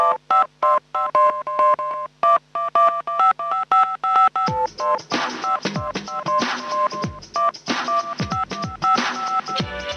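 Rapid bursts of telephone keypad dialing tones ring out in quick rhythmic runs, joined midway by a fuller music track in a Hindi film song, the beeps continuing over the beat.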